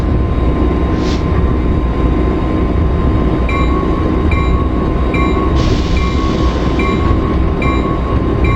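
A MARC Penn Line locomotive rumbles loudly and steadily from the cab as the train slows to a stop at a station platform, with repeated short electronic beeps and a brief hiss over the constant low drone.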